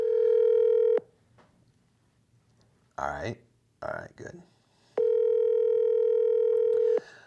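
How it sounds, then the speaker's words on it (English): A telephone ringing over a Zoom call, two long steady electronic rings two seconds apart, with someone speaking briefly in between. "Can you guys hear the phone ringing on the Zoom?"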